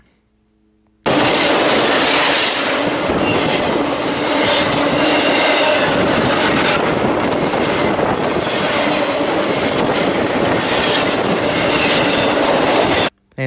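A CSX freight train passes on the nearest track at Fullerton, California, a sudden loud close roar of rolling wagons with rhythmic wheel clatter and some squealing, holding steady before cutting off.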